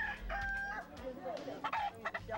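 Fighting roosters at a dirt cockfighting arena in Indonesia, with a couple of brief nearby crows and clucks rising over a noisy crowd hubbub.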